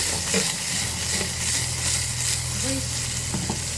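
Onions frying in hot oil for dhaba style dal tadka give a steady, close sizzle with crackling bursts and occasional stirring clinks, no talking.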